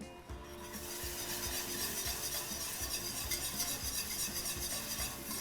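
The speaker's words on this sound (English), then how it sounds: "I'm going to slowly stream it in while whisking vigorously." A whisk beats milk into a flour roux in a pan for croque madame, making fast, rhythmic scraping and sloshing strokes that run steadily throughout, close and fairly loud, with no talking.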